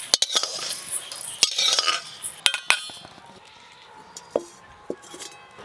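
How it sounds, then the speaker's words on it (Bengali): Sona moong dal being lightly dry-roasted in a pan, heard as scattered clinks and scrapes of a utensil against the pan, with no audible sizzle and no voices. "যখনই আপনারা সোনা মুগের ডাল করবেন এইভাবে হালকা করে একটু ভেজে নেবেন"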